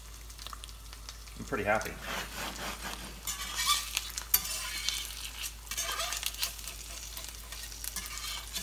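Eggs fry in a Field Company cast iron skillet with a steady soft sizzle and scraping stirs, while a person speaks briefly over it.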